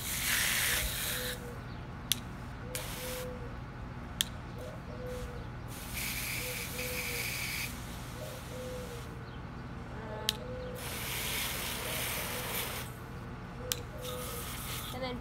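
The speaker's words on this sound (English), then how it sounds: "As I turn off the sprinkler" A garden sprinkler sprays water over a saxophone being cleaned outdoors, a steady broad hiss running throughout with a few faint clicks and knocks.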